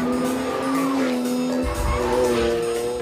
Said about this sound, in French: Le moteur V12 d'une Ferrari fait un son incroyable